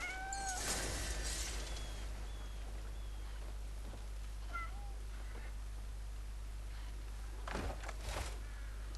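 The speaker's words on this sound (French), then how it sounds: "le chat qui miaule" A cat meows a few times in the video game Crimson Desert, quite faint, over a constant low hum and background hiss; no one speaks.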